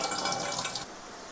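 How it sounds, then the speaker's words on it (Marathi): Water draining from boiled vegetables in a home kitchen, a steady close rushing pour that stops abruptly near the end. "पाणी ड्रेन करूयाचं भाजीचं"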